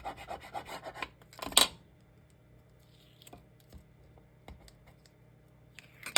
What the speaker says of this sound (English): got to burnish it down, and you just use your scissors handle